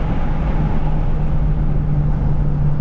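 A tuned Mitsubishi Evo X engine hums at a steady, loud, sustained pitch close by, holding one even tone for the whole moment without talk.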